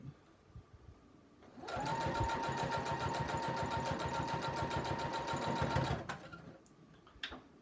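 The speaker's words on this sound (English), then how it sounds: "You hear that? It means there is a good bit of fabric in between the needle and the base of the machine." A sewing machine runs in one steady burst of about four seconds, stitching through thick layers of fabric for a beach tote, with a sustained whine and a rapid needle clatter. Faint handling sounds come before and after.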